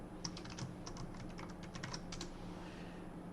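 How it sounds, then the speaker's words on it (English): Rapid typing on a computer keyboard while working in IntelliJ IDEA, a steady run of light, close clicks for a few seconds that thins out toward the end, heard alone without talk. "Here you may type any marker,"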